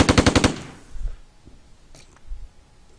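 A tank's coaxial machine gun fires in a video game, a rapid burst of about seven loud, close shots in the first half second, followed by quieter low thuds and faint scattered noises.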